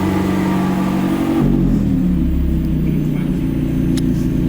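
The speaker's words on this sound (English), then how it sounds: "when you start it up and put it in active mode and you put the car into sports mode, it opens the exhaust valves up" A British supercar revs in sports mode with its exhaust valves open, giving a loud, deep, continuous rumble whose pitch drops and settles after about a second and a half.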